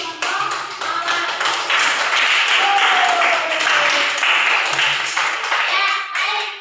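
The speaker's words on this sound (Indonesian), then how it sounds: "Kalau begitu kita berikan aplaus buat teman-teman kita dari kelompok mawar." A group in a classroom applauds for classmates, giving a dense, sustained round of clapping that swells, holds, and tapers off over several seconds, with some voices mixed in.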